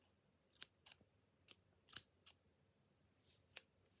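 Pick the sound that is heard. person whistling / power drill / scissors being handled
scissors being handled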